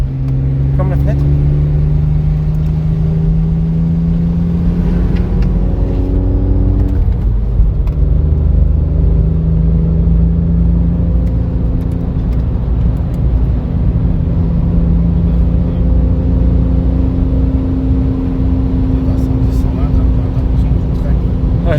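A Renault Clio 4 RS engine running with the silencer removed gives a loud, continuous rumbling drone with pitch shifts as revs rise and settle, under faint voices.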